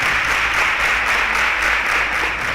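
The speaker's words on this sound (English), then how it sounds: "A round of applause for Michael." A studio audience at a televised contest applauds contestant Michael with steady, even clapping that carries on throughout.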